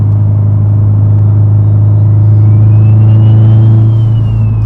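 A loud 800 hp Subaru STI engine rumbling close by, a deep steady drone that swells slightly as it revs, with a faint whine rising over it.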